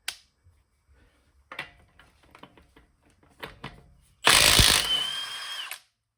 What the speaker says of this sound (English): Let's go ahead and take a lug nut off with it.